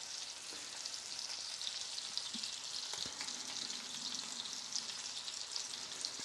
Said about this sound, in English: the sizzling has definitely gone down since when I turned it down one